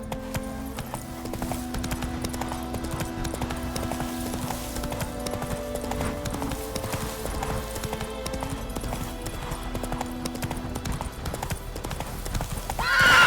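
A horse gallops with steady clip-clop hoofbeats in The Witcher 3, the rhythm continuous and close throughout. A brief whinny-like rise comes near the end.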